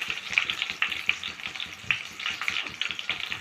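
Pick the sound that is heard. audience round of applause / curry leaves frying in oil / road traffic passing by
curry leaves frying in oil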